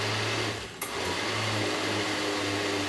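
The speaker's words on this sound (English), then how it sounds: "sometimes when the ingredients stick to the top of the blender and they don't want to come down to the bottom, just give it a pulse, or I like to give it a shake" A kitchen blender pulses with ingredients inside, making a steady motor whir with a short dip and a sharp click early on before the hum picks up again and runs evenly.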